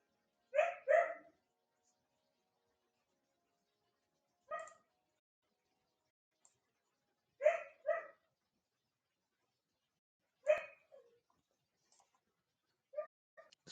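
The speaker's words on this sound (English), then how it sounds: "Oh, he's still barking." A single dog barks indoors in short bursts, mostly pairs of sharp barks spaced several seconds apart with quiet gaps between, moderately close and alone without talk.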